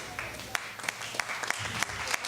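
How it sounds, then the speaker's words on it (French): An audience claps at a talk to vote by applause. The clapping is scattered and moderate, with distinct individual claps over a short stretch, fairly close, and a voice is faintly present. "Applaudissez."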